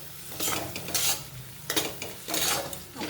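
Spices with turmeric stir-fried in a hot pan, a spoon scraping and clinking against the metal in several bursts over a steady low sizzle, close and fairly loud, with no voices.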